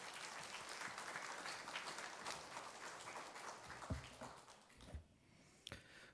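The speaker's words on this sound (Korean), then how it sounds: "우리 크게 박수로 맞이해 주시길 바랍니다" A church congregation at a revival service applauds to welcome the pastor, a dense, fairly faint crowd clapping that fades out, ending in a few scattered isolated claps and knocks.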